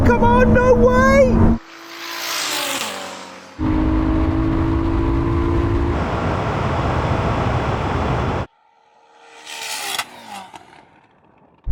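A 3,000 hp SUV and a Ferrari SF90 roar and rev loudly during a drag race, heard in abrupt separate bursts broken by short stretches of near silence.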